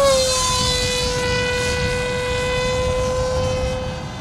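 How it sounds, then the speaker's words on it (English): Foam Fighters F-117 RC jet with a 7-inch propeller flying past, a loud high-pitched motor whine with a slowly falling pitch that fades slightly at the end, no talking. "I think this is definitely the fastest F-117, Foam Fighters F-117 that I've built."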